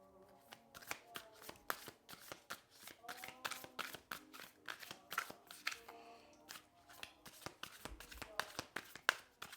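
Tarot cards shuffled by hand before a single card is drawn, rapid close riffling and flicking in quick bursts with small pauses, no voice.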